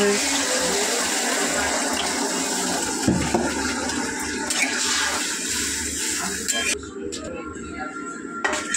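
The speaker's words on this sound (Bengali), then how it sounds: "তো বন্ধু এবার জল অ্যাড করব" Water pours steadily into a pot of curry gravy with taro, a continuous rushing, gushing sound lasting several seconds, close and fairly loud, easing slightly near the end.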